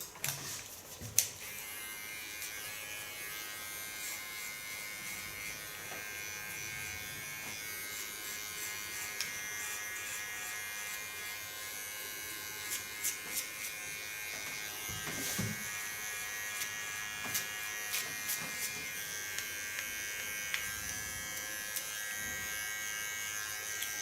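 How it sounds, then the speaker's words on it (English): A small electric hair clipper buzzes steadily while cutting ultra-short hair, a close, continuous high-pitched motor whine with brief changes in tone as it moves through the hair, without speech. "Get to my small clipper again."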